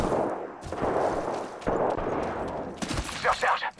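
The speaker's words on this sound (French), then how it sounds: "Je suis sous les tirs." Rapid automatic gunfire erupts in an Apex Legends match, with dense, loud bursts of shots rattling close together and barely pausing over the four seconds.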